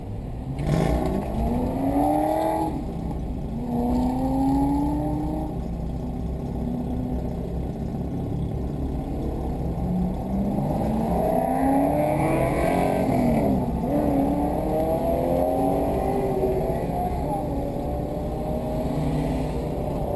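Several cars pulling out of the pit lineup onto Thunderhill race track during a track day, engines revving and rising in pitch as they accelerate, loud and close, with multiple overlapping passes.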